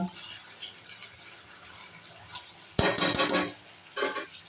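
Diced potatoes sautéed in ghee for a fasting-style potato dish, with a spoon scraping and clinking against the pan in sharp bursts over a soft sizzle in a home kitchen.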